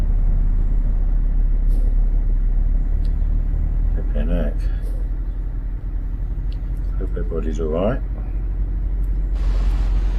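A truck engine in Euro Truck Simulator 2 rumbles low and steady throughout, with a brief hiss of air brakes near the end, while someone talks over it.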